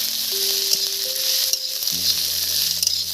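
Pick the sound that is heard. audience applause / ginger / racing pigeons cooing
ginger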